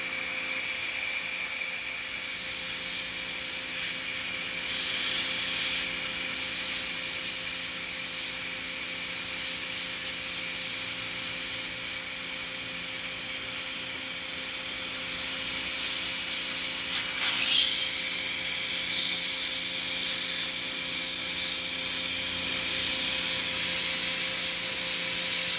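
A pressure washer blasts adhesive off the plastic door guards of a Jeep Cherokee XJ, a steady, loud hissing spray that runs without a break for the whole stretch, with a brief shift in tone partway through and no talk.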